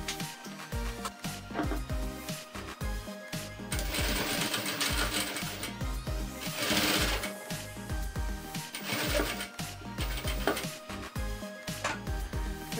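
A sewing machine stitches a bandana bib in fast, close, rhythmic bursts that start and stop, with the motor whirring and the needle clattering, and no one talks.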